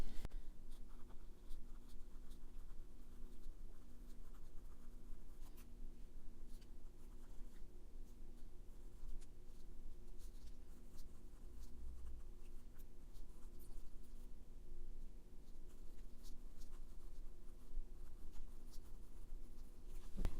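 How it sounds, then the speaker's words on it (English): Pen writing by hand on paper, faint close scratching and scribbling strokes in irregular bursts against a quiet room, with no talk. "So now I'm going to just write in my own words a little bit what this part of the verse"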